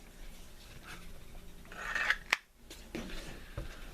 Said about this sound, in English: I got my cutting tool here. Take this and cut that.